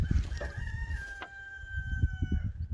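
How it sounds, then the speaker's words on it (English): Chickens cluck nearby while a rooster crows once, a long held call, with steady low farmyard murmur and clucking throughout. "Chickens in the background."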